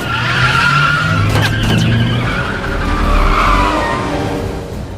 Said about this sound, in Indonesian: mereka pun segera bergegas pergi dengan menggunakan sebuah mobil limusin